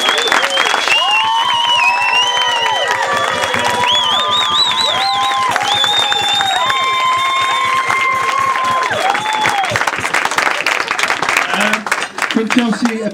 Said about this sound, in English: Round of applause for bridesmaids.